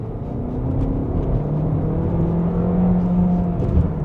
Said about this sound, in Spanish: baja una marcha, mantiene el auto revolucionado para mantenerte siempre en el torque